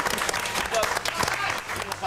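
Studio audience at a Top of the Pops taping applauds a band, a dense, steady wash of clapping and crowd noise with some voices mixed in, close and loud for about two seconds.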